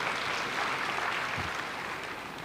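Audience applause at a spiritual discourse, a steady, fairly soft wash of many clapping hands that holds evenly throughout without voices.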